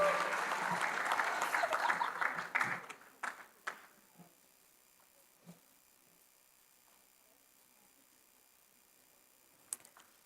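Applause from the audience at a junior school graduation award presentation, loud and steady for about three seconds, then quickly fading to a few scattered claps and near silence.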